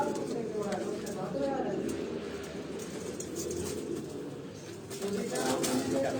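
Pigeons cooing in a loft, soft low rolling coos mixed with a steady murmur of people talking nearby at moderate distance.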